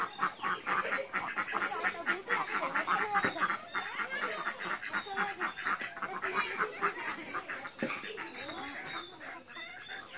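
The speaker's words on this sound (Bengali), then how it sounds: "হাঁস চলে আসতেছে খাবার খাওয়ার জন্য।" Ducks quack and honk continuously and fairly close at a rural family home, joined by chickens as the flock comes in for food, a busy overlapping chorus that fills the whole stretch.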